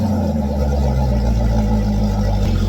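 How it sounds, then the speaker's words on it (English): Boat engine running on a Salty Captain Mega Bucket flushing setup, a loud, steady, close droning hum with no pauses. "Once your engine is running,"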